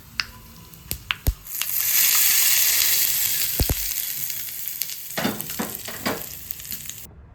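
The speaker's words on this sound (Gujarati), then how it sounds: "વઘાર છે ને આપણે આમાં એડ કરીશું" Mustard seeds, cumin, asafoetida and curry leaves are tempered in about two spoons of hot oil for a chutney. A few sharp clicks come first, then a sudden loud sizzle that slowly settles into crackling pops near the end.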